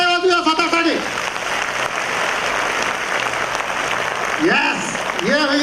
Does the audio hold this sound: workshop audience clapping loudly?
yes